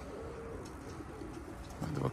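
Pigeons coo softly around a loft, faint and distant, with a slightly louder burst of cooing near the end and no clear wing flaps.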